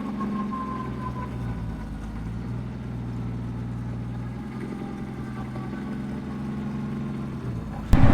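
A junkyard car engine runs off its battery at a steady idle, low and droning with a faint uneven tone, close by and alone until a sharp knock at the very end.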